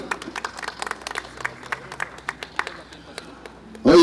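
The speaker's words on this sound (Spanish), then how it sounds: "Fuerte palmas para Iván Luyo y Yurik Barbarón." Crowd applause at a Peruvian festival, a mayordomía band-handover celebration, with scattered claps rising and falling at a moderate distance before a sudden loud burst near the end.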